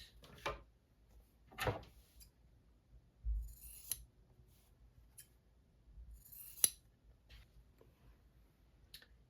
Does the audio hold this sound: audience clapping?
no